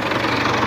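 A 2021 Farmtrac 60 HP tractor with power steering and double clutch runs its diesel engine with a brief, loud, steady knocking rumble close by.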